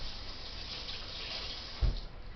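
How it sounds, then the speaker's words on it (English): Tap water runs softly over fingers being rinsed at a kitchen sink while banana bread is made. The faint, steady trickle ends in a short, dull knock. "Rinse your fingers."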